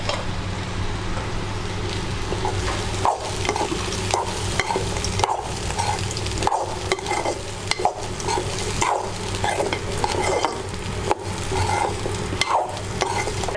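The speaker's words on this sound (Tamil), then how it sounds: "இப்போ இந்த பிரண்டையை அதோட போட்டு கிளறு." Pirandai (adamant creeper) stirred into sautéed onions and chillies in a pan, a steady close sizzle broken by repeated scraping strokes of a spoon through the mixture.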